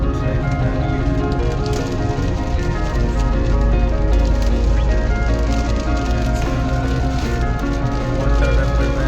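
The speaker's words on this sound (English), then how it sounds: "Now it's raining heavily" Heavy rain pours down steadily on a rainy day in the UAE, a dense continuous hiss and patter of falling water that holds loud and even throughout.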